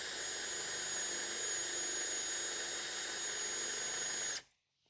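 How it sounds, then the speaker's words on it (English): A regular drill, not on hammer setting, drills into concrete with a steady high-pitched whine and grinding buzz for about four seconds, then stops suddenly into silence. "This is the sound of the regular drill, drilling into concrete."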